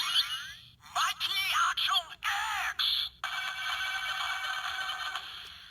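A Kamen Rider Ex-Aid Proto Mighty Action X Gashat toy, button pressed, plays bright electronic jingles and a synthetic announcer-style voice in several short bursts, then a sustained buzzing tone, loud and close.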